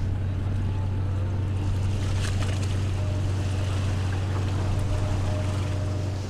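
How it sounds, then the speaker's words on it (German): Wind and surging water over the open Atlantic Ocean heard from aboard a boat, a steady unbroken rush above a constant low engine hum, with occasional faint knocks and creaks. "Der Wind kommt wieder zurück, es wird schlechter."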